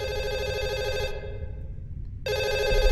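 A telephone rings loudly with a sustained electronic tone, cuts out for about a second, then resumes, over a low rumbling background.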